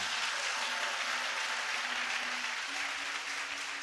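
Church congregation applauding at a worship service, a dense, steady wash of clapping that holds evenly for about four seconds, with a faint sustained tone beneath it.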